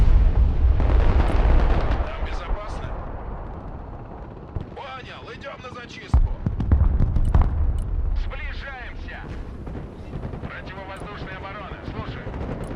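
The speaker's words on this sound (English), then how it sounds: "Also artillery." Artillery fire in the Broken Arrow strategy video game, heavy rumbling blasts and scattered shots, loud at the start and again midway, with a voice talking over the battle.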